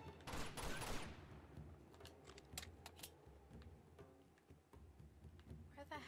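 Gunfire crackles in Uncharted 2: Among Thieves, an opening flurry of quick shots followed by scattered sharp pops, fairly faint and distant.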